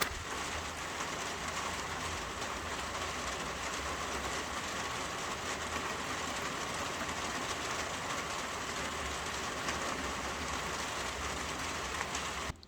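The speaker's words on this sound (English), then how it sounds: "Probably can't hear me because the rain's hitting the roof." Heavy rain drums steadily on a roof, a loud, unbroken hiss of drops that lasts throughout with no talking.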